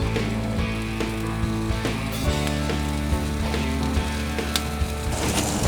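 Porterhouse steak cooking caveman style over an open fire, giving a steady loud sizzle with scattered crackles and pops throughout and no talk.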